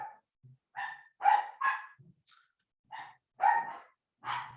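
A dog barks repeatedly at home during an online Zoom biology class, with about seven sharp, close barks in an uneven rhythm and quiet gaps between them; no one speaks.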